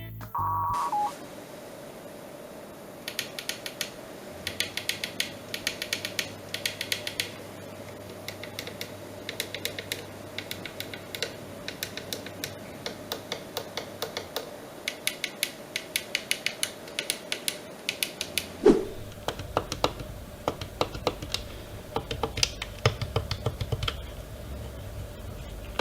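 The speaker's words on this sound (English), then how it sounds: "On the back of the grip are 2 additional triggers. All switches feel at least good, most of them great. Here's how they sound." Switches and triggers on a VKB STECS flight-sim throttle grip click one after another, crisp close-up plastic clicks in irregular bursts over faint background hiss, with no talking.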